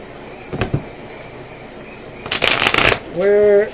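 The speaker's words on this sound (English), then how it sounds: "let's pull some clarifying cards. So let's get a shuffle." Tarot cards are riffled and shuffled in a few quick bursts, close by, with a brief rising tone near the end.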